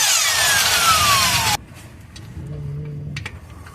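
Power tool whirring hard on a clutch bolt of an Ashok Leyland Dost truck, a loud high whine for about a second and a half that cuts off abruptly, followed by quiet clinks and a short hum.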